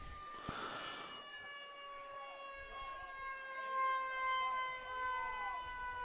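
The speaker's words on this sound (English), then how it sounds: "It sounded like a tornado siren." Distant wailing siren like a tornado siren or ambulance, rising and falling in long steady tones over the quiet ambience of an outdoor youth football game, faint and continuous with a brief thump near the start.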